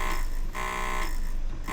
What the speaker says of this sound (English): There we go. Guard buzzer.